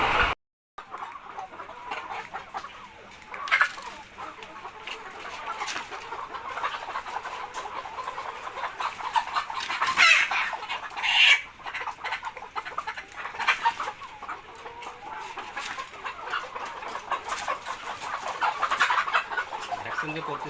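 Around a thousand layer hens on a poultry farm cluck and squawk continuously as a dense, nearby flock. A rooster-like call rises now and then, and faint voices sit in the background.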